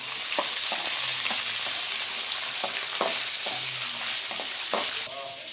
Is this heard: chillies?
yes